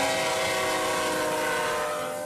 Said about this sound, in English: 5, maybe 7 crude oil trains a week rumble through cities such as Battle Creek